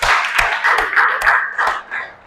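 Classroom group applauding a student team after a presentation, a fast run of hand claps with sharp accents at steady intervals, close and fairly loud, fading toward the end.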